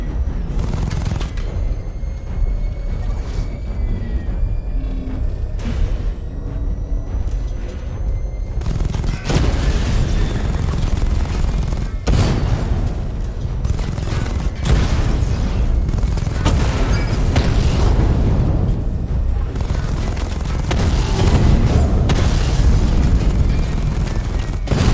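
Missile barrage explosions in a Batman Arkham game, loud booms and rumbling blasts stacking in sharp repeated bursts over a dense, sustained roar, with a bigger wave of impacts arriving around the midpoint.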